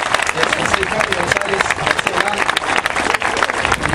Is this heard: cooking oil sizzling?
no